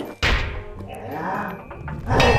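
The Ferrous Wroughtnaut, an armored boss in Minecraft's Mowzie's Mobs mod, slams down with a heavy thud, followed by clanking and a second impact near the end, close and loud.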